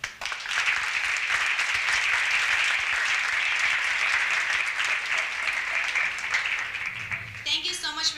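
Audience at the 12th Annual Roberto & Vera Clemente Life Commemoration Event breaks into sustained, dense applause lasting several seconds before a voice starts speaking at the end.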